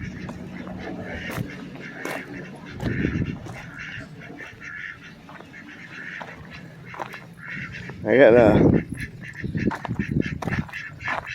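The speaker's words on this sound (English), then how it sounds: "one black duck. She's been laying on some eggs." A black duck quacks and honks amid a farmyard with hens, giving several raspy calls including a louder burst near the end, heard close under someone talking.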